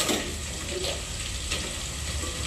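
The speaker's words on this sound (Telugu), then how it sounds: "ఈ రెండు మంచిగా వేగాలి నూనెలో" Vegetables, onion and potato frying in hot oil in a pan for sambar, giving a steady close sizzle with faint stirring, no talk.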